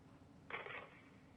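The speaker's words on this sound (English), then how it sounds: "That was dirt being thrown on the lid of a coffin." Dirt thrown onto a coffin lid, a sound effect from the video game Kentucky Route Zero: one short, faint gritty scatter lasting about half a second amid quiet background hiss.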